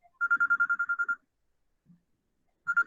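A telephone rings with an incoming call, a rapid electronic trill of about ten pulses, a pause of over a second, then the trill starts again, loud and close in an otherwise quiet room.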